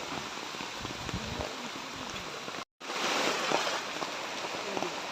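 Steady rain falls on a flooded village courtyard where people are catching fish, a dense, close hiss with scattered drops and splashes that cuts out briefly midway and then resumes just as heavily.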